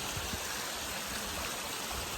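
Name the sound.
river stream flowing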